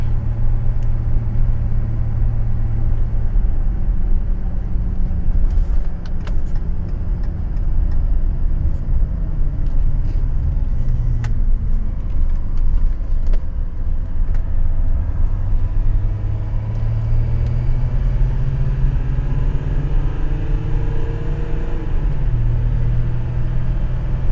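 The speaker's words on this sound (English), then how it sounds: "So leaving the warehouse, the truck is fully warmed up." A Ram EcoDiesel truck driving on the road while towing a fully loaded trailer, a steady low engine drone and road rumble from inside the cab, continuous and fairly loud with slight shifts in pitch as speed changes.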